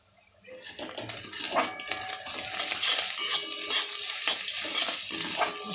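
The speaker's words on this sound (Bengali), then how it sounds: "রসুনটা দিয়ে কষে নেব।" Garlic added to onions already fried in a pan for chicken with roasted mango, sizzling and frying steadily with occasional stirring scrapes, close and fairly loud, no talking.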